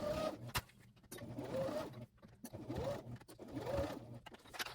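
A domestic sewing machine back stitching a dress seam runs in several short, whirring bursts separated by brief pauses, close and moderately loud.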